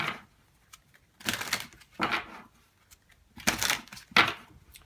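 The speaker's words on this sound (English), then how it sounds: "Just want to give a quick shuffle here." Oracle cards from a Psychic Oracle deck are shuffled in several short riffling bursts, with brief pauses between them, close and fairly crisp.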